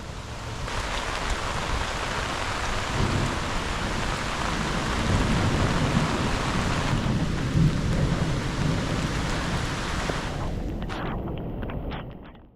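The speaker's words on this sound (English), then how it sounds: "That storm was crazy. That rolled in so fast." A thunderstorm with heavy rain rolling in fast over water by a cottage, a dense continuous roar of downpour with deep thunder rumbles underneath, cutting off abruptly near the end to a few faint drips.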